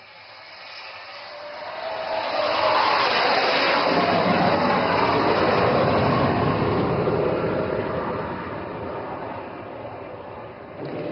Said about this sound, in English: Bhadoria with Flight Lieutenant Benipal, is now coming in for an overshoot. Observe the massive lifting body and thrust vectoring authority